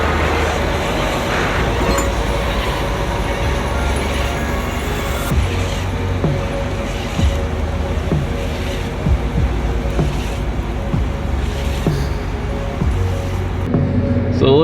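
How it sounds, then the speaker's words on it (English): A big John Deere four-track tractor being driven, its engine giving a steady close low rumble with clanking and rattling, continuous for the whole stretch. "Josh is letting me have a hand at driving a tractor for the first time"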